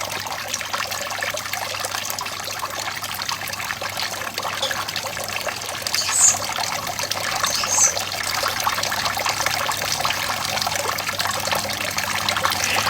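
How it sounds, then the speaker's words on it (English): A pond's water fountain trickles steadily, a soft continuous splashing and dribbling heard close by, alone and unbroken with no talk over it. "That's the water fountain you can hear."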